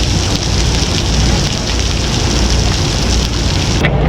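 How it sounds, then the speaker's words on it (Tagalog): Heavy rain pours down steadily and loudly outdoors, a dense continuous hiss of large drops drumming on surfaces close by, with no voices. "Lumakas na uli ang ulan."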